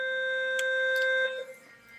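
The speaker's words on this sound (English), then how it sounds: "The fire alarm is going off." A steady, piercing electronic alarm tone holds at a high pitch for over a second, then cuts off, leaving faint room noise.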